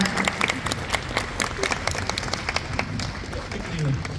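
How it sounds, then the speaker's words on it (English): Audience applause for Kat Graham at a Comic Con Q&A in Holland fills the whole stretch, a dense, continuous clapping crowd with a few voices mixed in. "So, some more applause."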